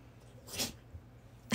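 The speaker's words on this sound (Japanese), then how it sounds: "くしゃみした。" A dog sneezes once, a short sharp burst standing out against a quiet room, with faint breathing around it and no talking.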